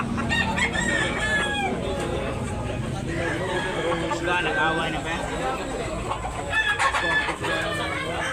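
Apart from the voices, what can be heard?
roosters at a chicken market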